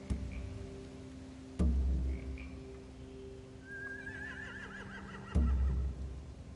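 A horse in a video game whinnies with a wavering, rising call amid a low background hum, with two loud thumps nearby.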